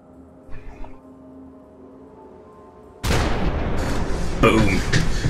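After a quiet stretch, loud explosive cannon blasts from a video game weapon burst in at an Enclave camp in Fallout: New Vegas, followed by heavy sustained booming and rumbling that stays close and powerful.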